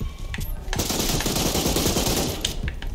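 Sustained loud automatic gunfire in the game Resident Evil Re:Verse, a dense continuous rattle of rapid shots close up, running without talk.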